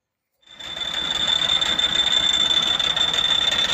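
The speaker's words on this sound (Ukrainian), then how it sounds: "оце такий звук і на старому реверсі. зазор є" Reverse gear mechanism of a T-25 tractor running with play in it, a steady mechanical whirring and rattling with a sharp high whine that starts abruptly and continues evenly.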